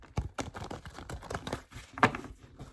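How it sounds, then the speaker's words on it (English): A deck of tarot cards is shuffled by hand, giving a quick run of soft, irregular riffling clicks and slaps, close and quiet with no talking. "So let me have a quick shuffle."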